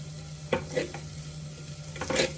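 Oil sizzles quietly in a pan while cooking Hyderabadi bagara rice, a steady soft crackle broken by a few brief stirring scrapes.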